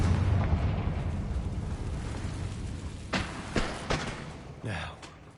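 Confringo fire blast spell in Hogwarts Legacy: a low rumbling roar fades, then a few sharp bursting impacts and a closing whoosh-blast follow in quick succession, fairly loud and close.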